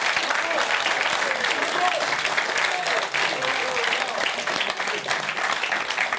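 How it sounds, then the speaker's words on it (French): Warm, sustained applause from a studio audience at a televised quiz show, a dense steady clatter of many hands filling the whole stretch at even loudness. "on entend des applaudissements nourris et chaleureux"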